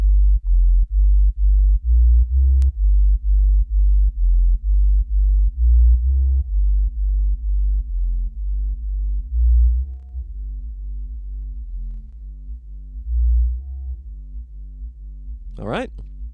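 A deep Ableton bass synth repeats in steady pulses while its reverb is turned up, so the notes blur into a washed-out sustained drone that fades toward the end, with a brief sweeping chirp near the close.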